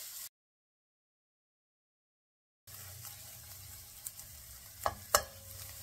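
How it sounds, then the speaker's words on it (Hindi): Garlic and ginger paste sautéing in a pan, a soft steady sizzle with a few sharp scrapes and clinks of stirring near the end, after a silent gap at the start. "अब हमने इसको मिक्स करके इसको यहाँ तक सौते करना है कि इसका कच्चापन ख़त्म हो जाए"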